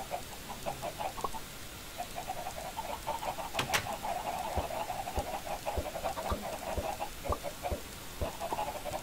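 Chickens kept as feeder chickens in a video game, a stream of soft clucks and chirps repeating over a busy background with a few sharp clicks mixed in.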